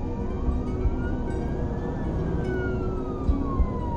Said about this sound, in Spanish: encendí la sirena y pisé el acelerador para tratar de darle alcance